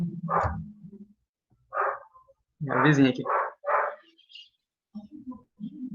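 A neighbour's dog barks in short bursts from close by, with a few yips, and someone speaks in between the barks.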